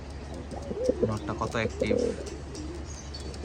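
Pakistani high-flyer pigeons coo softly and repeatedly, close by, under someone speaking.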